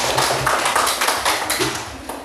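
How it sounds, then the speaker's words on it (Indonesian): Classroom students clapping hands in applause, a dense, steady patter of many hands close by for a couple of seconds with no talk over it. "Tepuk tangan dulu untuk Anda."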